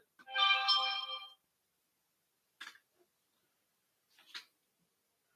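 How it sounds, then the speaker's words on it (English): A phone notification chime with bright harmonic tones rings once clearly near the start, followed by a couple of faint short clicks and taps in a quiet room. "notification right there"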